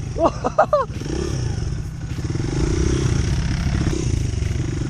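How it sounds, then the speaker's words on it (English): A dirt bike engine drones and revs steadily while riding and drifting on ice, close and loud, with a few brief voice bursts at the start. "Try doing it on a dirt bike."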